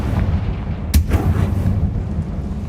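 A Confringo spell explosion in Hogwarts Legacy goes off as one sharp, loud blast that rumbles away, with a smaller burst following over a low, booming game ambience.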